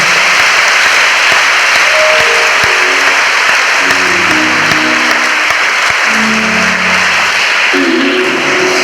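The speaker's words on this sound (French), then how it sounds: "On acclame encore très fort pour Jésus" Loud, dense applause and cheering from a church congregation celebrating Jesus, a steady wall of clapping that fills the whole stretch while music tones sound underneath.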